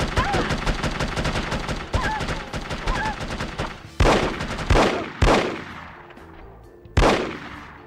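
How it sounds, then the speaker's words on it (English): Gunfire in the video game The Operative: No One Lives Forever, with sharp loud shots coming in bursts and then several single cracks spaced a second or two apart, some fading into echo. "Say, who is shooting at me?"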